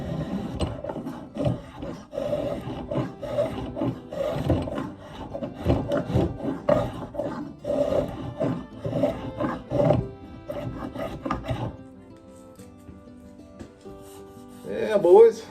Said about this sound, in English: we'll take some sandpaper to that